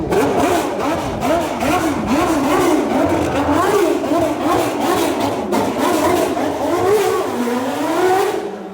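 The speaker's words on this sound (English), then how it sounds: "So I saw this car moving and the sound was absolutely amazing." A McLaren Formula 1 race car engine drives past at the McLaren Technology Centre, a loud continuous high-pitched howl rising and falling through gear changes, alone with no talk.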